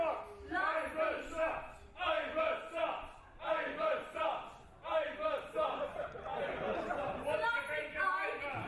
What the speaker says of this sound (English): Oh, the crowd's murdering her.